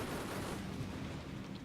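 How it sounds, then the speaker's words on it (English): Autocannon fire in the WWII tactical game Combat Mission: Battle for Normandy, a dense, steady wall of rapid gunfire noise that stays loud for the whole short burst. "Auto cannon of death."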